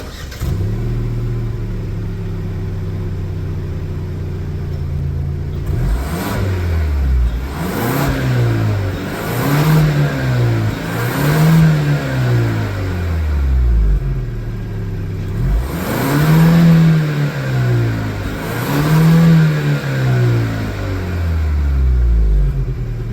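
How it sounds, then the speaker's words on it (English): A 2025 Genesis G70 2.5T RWD sports sedan idles, then revs repeatedly in rising and falling bursts, a throaty exhaust note swelling loud and close several times. "But the exhaust note is not bad."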